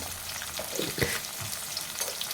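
Onions and green chillies fry in a pan, giving a steady, dense crackling sizzle up close with a few louder pops and spatters and a brief stir near the middle. No one speaks.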